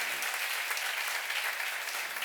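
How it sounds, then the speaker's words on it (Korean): Church seminar audience breaks into continuous applause, a thick wash of clapping from a large crowd, steady and unbroken. "그런 걸 믿는 사람만 박수를 하세요"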